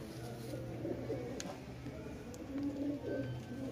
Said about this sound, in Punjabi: ਇਹ ਦੇਖੋ ਜੀ ਇਹਨਾਂ ਕਬੂਤਰਾਂ ਦਾ ਦੋਸਤਾਂ ਨੂੰ ਸ਼ੌਕ ਕਰਾਇਆ